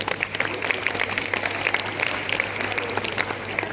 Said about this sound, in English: let us give our teachers once again a big loud applause.